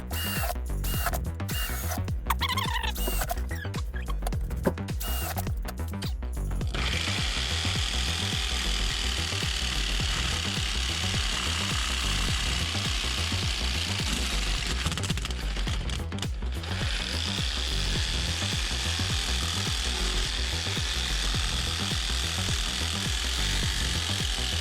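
A power tool cuts a slot in aluminum for a custom water box, starting with a few sharp stuttering bursts and then settling into a loud, steady grinding whine that holds close and continuous to the end.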